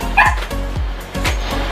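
A small dog indoors barks and yips repeatedly, about four close, loud barks in quick succession with a short whimpering tone between them.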